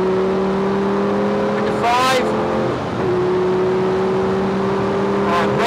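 A Lamborghini race car at full throttle on a track: a loud, close, sustained engine drone with steady harmonics, a brief rising rev burst around two seconds in, then the engine holds power again.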